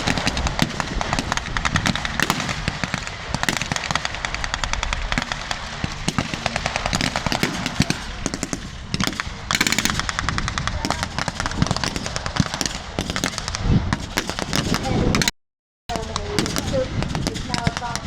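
A German half-track fires blank rounds at a World War Two re-enactment: dense, rapid bursts of loud gunfire crackle almost without pause, with one brief dropout near the end.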